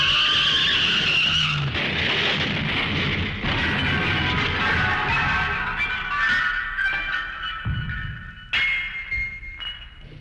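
A runaway garbage truck in a comedy record skids with a long, loud tire squeal and engine roar that fades, then a short sharp squeal bursts out again near the end.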